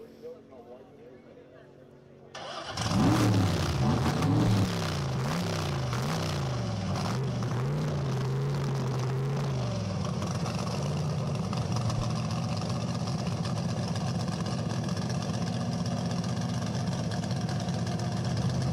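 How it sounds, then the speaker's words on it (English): A roadster's 604 cubic inch Ford engine barks to life and revs in a few deep, wavering surges. It then settles into a loud, heavy, thumping idle close by at a speed week event, with voices talking faintly underneath. "That's a 604 cubic inch Ford he's got stuffed under the hood there."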